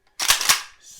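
An ALG trigger in an AK rifle dry-fires, giving a sharp metallic click with a short burst of bright mechanical clatter, close and fairly loud, alone with no voices.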